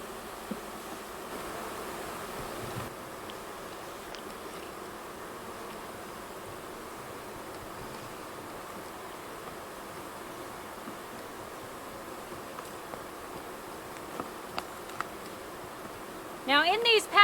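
Honey bees swarm around a shipped bee package being moved into nucs in Alaska, giving a soft, continuous buzzing hum at low level with slight rustling and a brief louder scrape near the end.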